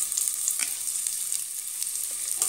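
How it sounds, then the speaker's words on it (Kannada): Onions fry in a pan for Kannada-style kushka rice, a steady, bright sizzle with scattered pops and crackles, close and continuous. "ಇದು ಕೆಂಪಗಾಗಬೇಕು ಅಲ್ಲಿಯವರೆಗೆ ಫ್ರೈ ಮಾಡ್ಕೋಬೇಕು"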